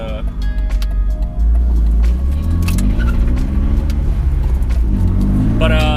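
A BMW E46 driven on a public road, its engine a steady low drone with a swell as it pulls harder partway through, and someone talking over it the whole time.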